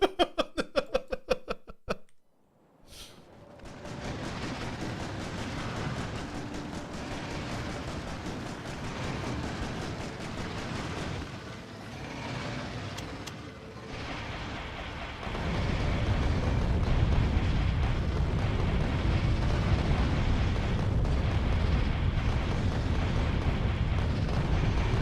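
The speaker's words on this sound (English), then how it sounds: "Nah, explosive rockets work fine as well." Explosive rockets detonate in the Factorio video game as a long, loud, dense wall of rumbling blasts and crackling bursts that swells in intensity partway through, after a few brief clicks at the start.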